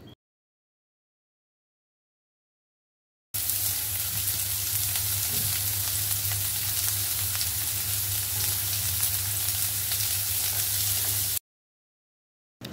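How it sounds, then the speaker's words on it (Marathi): Onion and spices sautéing in a pan for a quick coriander-leaf dish, a steady close sizzle of frying that runs evenly for several seconds between stretches of silence. "सर्व जिन्नस आपण व्यवस्थित परतून घेऊ"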